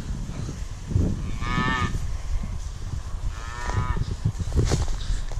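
Suckler cattle moo loudly a few times, long drawn-out calls close by, while being moved out to new grazing, with constant rustling and movement of the herd underneath.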